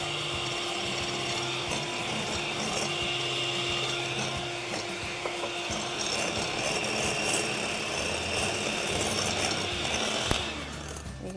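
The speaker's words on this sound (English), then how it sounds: "So we're going to whisk these." Egg whites and sugar are whisked for a keto lemon tart meringue, giving a continuous, fairly loud mechanical whir with faint rattling that runs steadily throughout.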